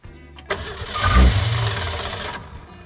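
A classic car engine with gasoline poured down its choke cranks briefly and fires, catching with a loud rumbling burst that settles into a rough run.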